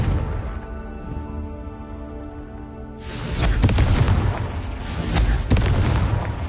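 Hogwarts Legacy Confringo spell blasts: a sustained tone gives way to a run of loud, booming explosions in quick succession, close and heavy with rumbling tails.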